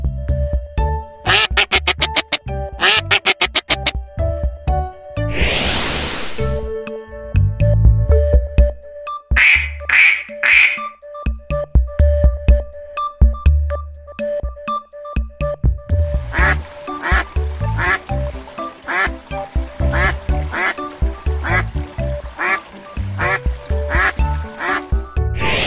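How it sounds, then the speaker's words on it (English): A duck quacks repeatedly in bursts throughout, loud and close, set among playful musical accompaniment in a children's animal sounds lesson. "Duck."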